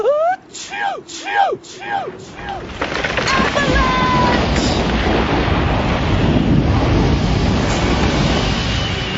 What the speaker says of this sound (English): Avalanche!